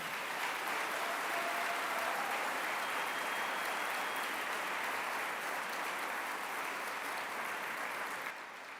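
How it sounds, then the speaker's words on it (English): A theater audience applauds two debaters before a God-or-no-God debate, a dense, even wash of clapping from a large hall that holds steady, then drops off sharply at the end. "Please give them a round of applause before we get this started"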